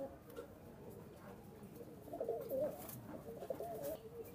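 A Pakistani high-flying pigeon coos softly and nearby, a few low burbling calls rising toward the end over a quiet room background, with faint talk underneath.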